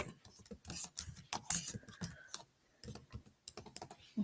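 Typing on a computer keyboard, a steady close run of quick clicking keystrokes with brief pauses, alone and fairly crisp.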